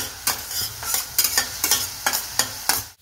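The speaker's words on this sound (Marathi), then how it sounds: "इथे आपल्याला 1 टेबलस्पून तेल घेऊन त्यात 2 टेबलस्पून असा कांदा परतून घेऊया" Onion sautéing in a tablespoon of oil in a pan for Mumbai-style pav bhaji, with steady frying hiss and rhythmic spatula strokes, about eight close scraping stirs at regular intervals.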